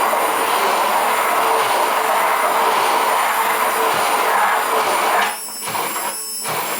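A blender making homemade mayonnaise gives a steady, loud motor whir throughout, its pitch and texture shifting near the end as the mayonnaise thickens.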